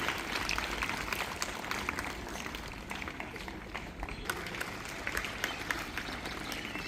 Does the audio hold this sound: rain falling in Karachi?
no